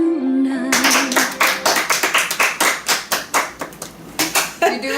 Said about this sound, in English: you don't have to be judgmental when you're clapping.